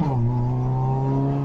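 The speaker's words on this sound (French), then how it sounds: "C'est vraiment un son de rallye" A Peugeot 206 CC fitted with a stainless 4-into-1 exhaust header holds a steady, raspy idle-to-light-throttle drone close to the microphone, alone with no talk.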